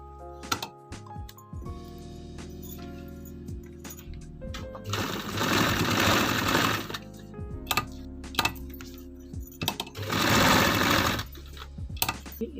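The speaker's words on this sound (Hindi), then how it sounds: "अब मैं इसको इस तरह सिलाई कर लेती हूँ।" A sewing machine stitching elastic onto trousers runs in two loud, rapid bursts of close mechanical whirring, separated by quieter clicks, handling and knocks as the fabric is repositioned.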